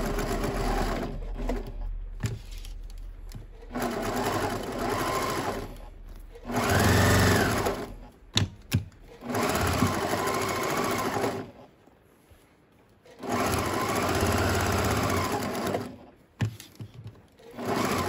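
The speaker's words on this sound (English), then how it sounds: "And then I will start stitching." A sewing machine stitches elastic into a side-pleat fabric mask, loud close whirring bursts of stitching that start and stop several times with brief pauses between runs.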